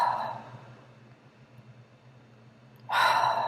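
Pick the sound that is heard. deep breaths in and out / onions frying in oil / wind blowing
deep breaths in and out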